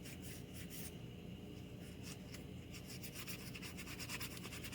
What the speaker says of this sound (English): So I'm going to sand this down a little bit.